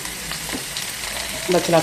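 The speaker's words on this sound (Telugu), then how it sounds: "ఇవన్నీ మంచి కలర్ వచ్చిన తర్వాత మనం కట్ చేసిన బచ్చలాకు" Cut Malabar spinach leaves fry in a pan with a soft, steady sizzle and light stirring, close by, with a brief swell of activity at the end.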